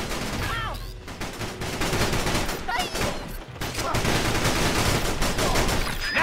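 Sustained gunfire and machine-gun bursts from the Battalion Wars GameCube game, loud and continuous across the whole stretch, with brief whooshing effects and a faint voice mixed in.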